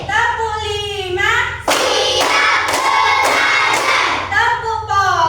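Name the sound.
children clapping in a rhythmic clap game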